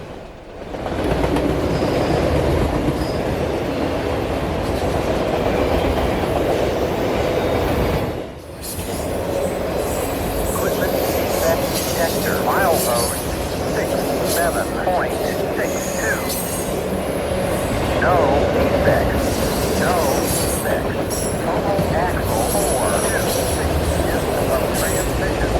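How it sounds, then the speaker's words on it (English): CSX CM44AC rebuilt locomotives 7000 and 7024, the trailing unit in YN3 paint, pass with a train, a loud, steady close-up roar of diesel engines and rolling wagons with wheel squeal and clatter throughout. "that nice engine setup, the first locomotive being CSX 7000, which is I believe the first ever rebuild CM44AC"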